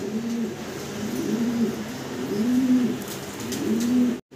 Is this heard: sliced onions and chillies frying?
no